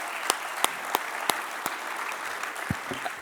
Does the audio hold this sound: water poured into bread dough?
no